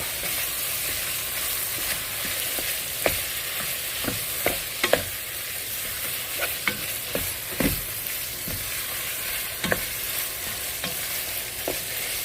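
Food sizzles steadily in a frying pan as pepper is stirred in, with a constant close hiss broken by scattered scrapes and taps of the utensil against the pan.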